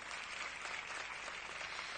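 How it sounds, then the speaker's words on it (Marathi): Crowd applause at an outdoor Hindu organisation rally in Jalna, Maharashtra, a dense, even patter of many hands clapping at a distance, with no voices over it. "तिच्यासाठी जोरदार टाळ्या होऊन जाऊ द्या"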